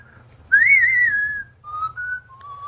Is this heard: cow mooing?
no